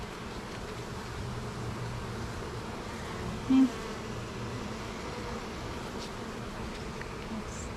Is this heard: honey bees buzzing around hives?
yes